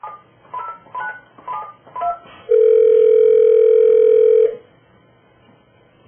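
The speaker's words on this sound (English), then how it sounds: "I'm going to call Carol now" A telephone is keyed with a quick run of touch-tone dialing beeps, followed by a single steady electronic tone lasting about two seconds, then near silence.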